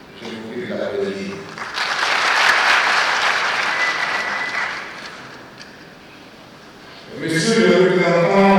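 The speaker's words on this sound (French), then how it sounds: "Je vous prie de l'applaudir." An audience at an official ceremony honouring a delegation bursts into applause that swells and holds for about three seconds, then fades; someone speaks before it and again as it dies away.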